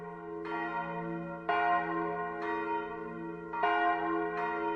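The Bells of Balangiga, church bells, ring out in slow succession, each strike blooming into a rich, resonant tone that lingers and overlaps with the next.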